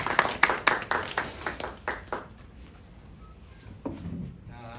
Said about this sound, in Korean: 우리 박수로 함께 격려하겠습니다.